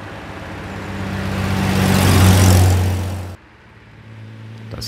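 Mercedes-Benz 300S Coupé, its 3.0-litre six-cylinder carburettor engine running steadily with no one speaking, swelling to a loud peak as the classic car passes close, then cutting abruptly to a quieter idle-like hum.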